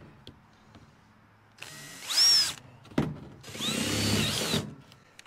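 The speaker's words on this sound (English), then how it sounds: "I drill one hole about half inch to an inch above the bottom of the tote, and then a second hole above that." A power drill bores holes into a plastic IBC tote, two loud whining bursts of drilling separated by a short pause, each about a second or more long, close up with no talking.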